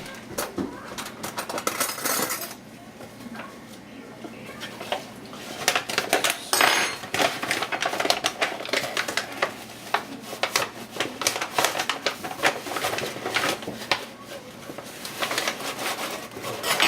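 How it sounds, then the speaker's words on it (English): A knife scrapes and clinks against a metal bread machine pan while tamping down flour for basic white bread, giving close, irregular metallic taps and scrapes that grow busier partway through. "I'm going to need a knife to tamp that down"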